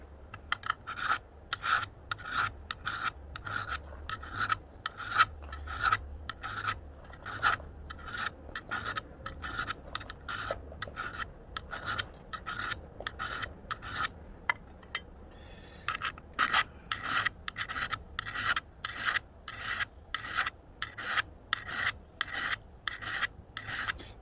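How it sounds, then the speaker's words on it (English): A hand file rasps steadily across a worn brush cutter blade, reshaping the edge angle and taking out chipped sections, in a rapid, even run of close, loud scraping strokes with one brief pause midway. "you're filing it until you get the chunks taken out of the end"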